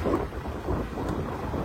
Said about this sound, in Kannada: ಮಳೆ ಬೇರೆ ಶುರುವಾಗಿದೆ ಈಗ.